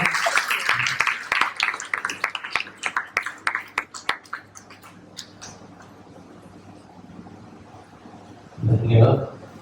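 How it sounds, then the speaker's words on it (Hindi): An audience claps at the Unsung Everyday Heroes Awards ceremony, a lively burst of applause that thins out over a few seconds into quiet, followed by a short louder sound at the end. "उनका जोरदार तालियों से स्वागत करते हैं।"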